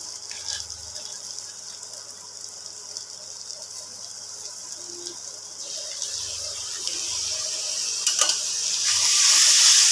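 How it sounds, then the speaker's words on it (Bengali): Water poured into a simmering soybean kofta curry with yogurt, a steady gushing pour that swells louder toward the end, close by with no talk. "এবার বন্ধুরা জল দিয়ে দেবো।"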